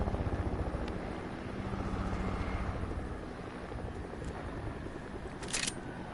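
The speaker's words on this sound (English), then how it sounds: "Chopper above us." A video game helicopter drones overhead with a steady rotor chop that holds throughout, fairly faint and wind-like, with a brief clicky burst near the end.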